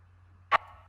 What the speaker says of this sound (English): here in this section we have a snare trigger which sounds like this